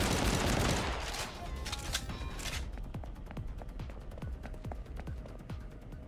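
Gunfire in the mobile and PC video game Into the Void, a dense burst of shots that gives way to a steady run of rapid, evenly spaced automatic shots.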